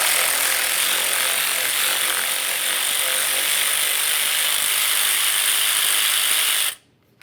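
A ratchet spins out an 8mm bolt holding a plastic bracket near the front ABS wheel speed sensor of a 2015–2020 Ford F-150, a fast, continuous, close rasp that stops abruptly near the end.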